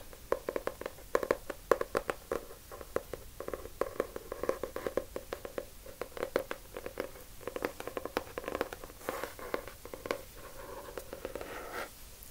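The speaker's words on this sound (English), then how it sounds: "Some of the biggest triggers that can be found on YouTube are tapping sounds" Quick, irregular tapping on a hard surface, soft and close, with bursts of rapid finger taps continuing steadily without any talking.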